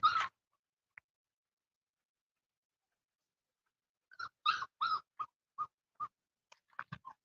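Puppies in a kennel yard give a sharp yelp, then after a pause a run of short barks and whimpers, high and close, with brief gaps between calls.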